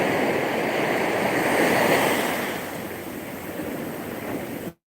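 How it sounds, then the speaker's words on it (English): Ocean waves wash steadily in a broad, hissing roar of surf, swelling slightly then easing before cutting off abruptly. "this beautiful cadence of dancing waves and sound"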